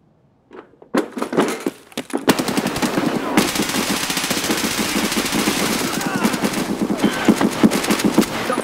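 Sustained automatic gunfire in a first-person shooter, a long loud burst of rapid shots dumping a full magazine, preceded by a few brief sounds at the start.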